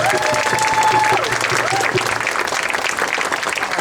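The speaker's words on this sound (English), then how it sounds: "Everybody, give her a round of applause." Sustained applause from a crowd at an outdoor street renaming ceremony in San Francisco, dense and loud throughout, with a brief whistle-like tone near the start.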